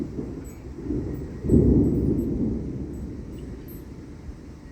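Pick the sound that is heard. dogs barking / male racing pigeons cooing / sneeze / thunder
thunder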